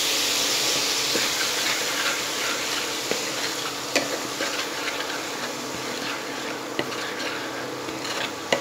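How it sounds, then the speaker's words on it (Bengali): A spiced brinjal mixture with red chilli powder is stirred in a frying pan, giving a constant close sizzle with a few soft utensil scrapes and taps, no speech. "এইবার সমস্ত উপকরণ ভালোভাবে মিশিয়ে"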